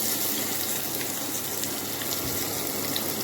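Crushed garlic cloves hit hot oil in a pan with dried red chilli, sending up a dense, loud, continuous sizzle and crackle that fills the whole short stretch with no voices over it.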